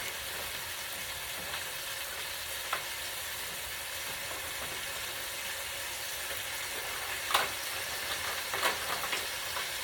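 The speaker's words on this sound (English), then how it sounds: "I'm going to get that shrimp cooked up in there." About a pound of shrimp fries in a pan for seafood paella, making a steady, close sizzle with a few stirring scrapes and no voices.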